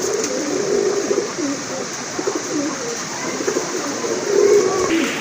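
A pair of large, light-coloured racer pigeons coo softly in repeated low murmurs, close by, against a steady background hum.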